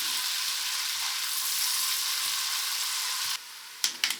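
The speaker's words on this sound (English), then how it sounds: "Add a good knob of butter and fry for another 2 to 3 minutes" Diced onions fry in butter in a soup pot, a steady bright hiss that drops out near the end, followed by a few short clatters and scrapes.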